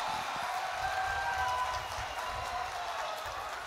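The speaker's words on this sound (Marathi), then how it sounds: "एकदा जोरदार टाळ्या वाजवून आपण स्वागत करा" A large crowd claps at a political rally held for Amit Shah, a dense steady wash of applause filling the whole stretch, distant and even, with faint talk underneath.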